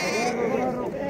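A ewe gives a single wavering bleat at close range, over a voice talking at the same moment.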